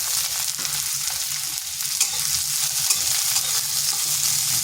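Sliced onion and crushed garlic fry in hot oil for sajne shak, giving a steady, close sizzle with light stirring scrapes and no voices.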